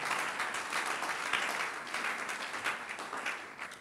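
A church congregation breaks into sustained applause, a dense, even wash of clapping hands that stays loud throughout with no one speaking over it.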